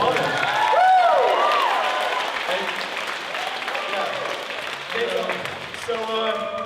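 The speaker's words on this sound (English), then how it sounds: "Another round of applause for Alden." An open mic audience gives a performer a round of applause: moderate, continuous clapping with a few whoops and voices rising early, then fading to scattered claps and chatter.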